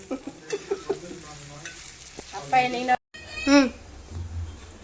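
Chicken 65 frying and being stirred in hot oil in a kadai, giving short sizzling bursts and scraping stirs at close range, with a pause near the middle and a voice speaking faintly underneath.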